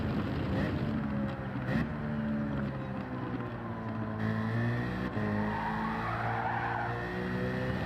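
A car engine revs hard in the Gran Turismo 7 racing game, a steady loud whine shifting in pitch through the gears with a continuous game-audio roar throughout.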